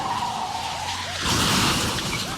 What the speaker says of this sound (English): a car crashes into those trash cans